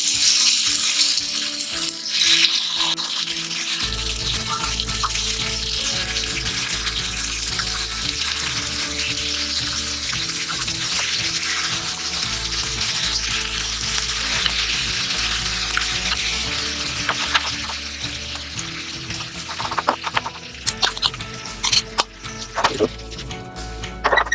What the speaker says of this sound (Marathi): तेल गरम झालेले आहे, पण त्याला चिकनचे पीसेस आपण शॅलो फ्राय करून घेऊया.